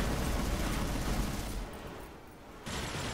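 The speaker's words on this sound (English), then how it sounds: "So the Gatling takes a little bit to wind up" Dense, continuous rapid gunfire from a Gatling gun in the video game Strike Vector roars loudly, briefly thinning out before another burst resumes.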